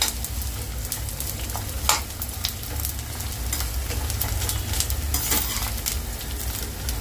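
Edible gum (gond) fries in hot oil in a kadhai, giving a steady close sizzle and crackle with occasional stirring scrapes and pops, and no voices.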